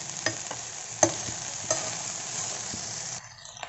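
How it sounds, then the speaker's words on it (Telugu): Okra frying in an open pan, Andhra home cooking, with a steady crackling sizzle and a few sharp spatula scrapes and knocks as the pieces are stirred, close and continuous until the frying drops away near the end. "ఇవి ఫ్రై అవుతున్నాయి కదండి."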